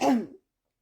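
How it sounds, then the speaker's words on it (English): A single short, rough cough, close and brief, then silence. "it hurts to cough"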